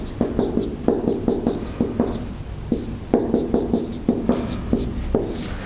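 Chalk or marker writing on a board during a university electrical engineering lecture, rhythmic scratchy strokes and taps in quick clusters, close and fairly loud, with no speech.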